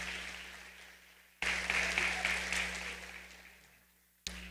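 Applause from the audience at a high school graduation awards ceremony, moderate clapping that begins abruptly, holds steady for a few seconds and fades, with another burst cutting in at the end.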